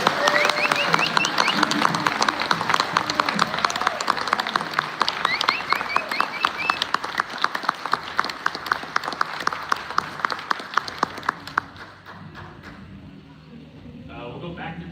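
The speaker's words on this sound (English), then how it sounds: "So a round of applause." An audience at a convention toy panel gives a sustained round of applause, dense clapping filling the hall for about eleven seconds before tapering off into quieter room noise.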